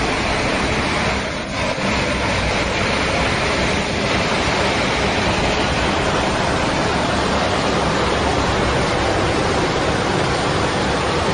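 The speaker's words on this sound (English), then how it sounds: "A storm surge pounds the coast." Storm surge waves pounding the coast during a destructive storm, a dense, continuous roar of crashing surf and wind at steady loudness throughout.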